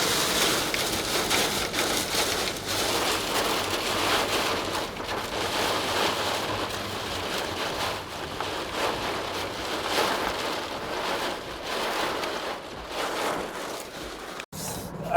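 Rain falls steadily outside, a dense continuous hiss with gusty wind noise on the microphone that holds for the whole stretch, then cuts off briefly near the end.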